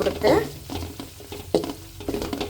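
Curry leaves hit hot oil with garlic already frying for North Karnataka garlic mandakki, a sharp burst of sizzle followed by softer crackling and stirring scrapes, close and fairly loud.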